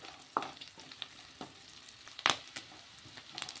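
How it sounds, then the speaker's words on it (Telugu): Dried prawns fry in a pan with a soft, steady sizzle, punctuated by a few sharp stirring scrapes and crackles, close and alone without talk. "ఇది ఇలా ఫ్రై అయిపోయింది చూసారా ఎర్రగా"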